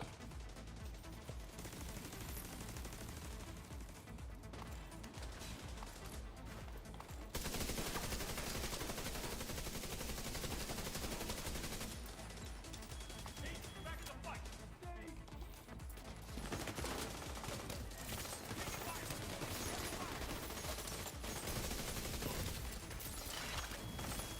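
A deployed turret in The Division 2 rattles off sustained automatic bursts amid a busy firefight, the gunfire steady and fairly quiet, running continuously with brief swells and no talk over it.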